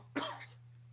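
A single short cough, close and fairly sharp, followed by a faint trailing breath, with a steady low hum underneath.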